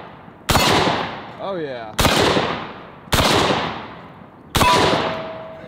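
Semi-auto shotgun firing number 5 shot pheasant loads, four loud close blasts spaced about a second apart, each with a long echoing decay, and a brief voice heard between shots.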